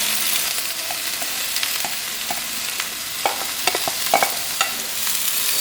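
Onions and peppers sizzle steadily in a hot pan, with intermittent clicks and scrapes of stirring close by, no talking.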